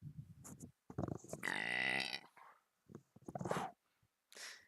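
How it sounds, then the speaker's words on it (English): A man belches near a microphone, a long, croaking, guttural burp stretched over about a second, surrounded by shorter grunting throat sounds and pauses. "Hold on, I'm gonna belch."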